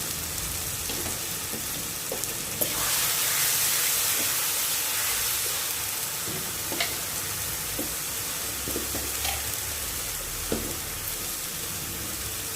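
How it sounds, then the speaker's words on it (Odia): Masala of onion and ginger-garlic paste frying in a pan for a crab and potato curry, a steady loud sizzle with occasional stirring scrapes and pops. "ମସଲାଟା ଆମର କଷି ହେଇଗଲାଣି।"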